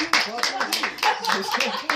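Several sharp hand claps ring out at uneven intervals, close and fairly loud, with people talking throughout.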